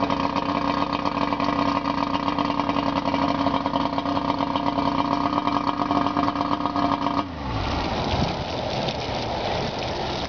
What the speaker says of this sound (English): This is the 25 horsepower Suzuki motor.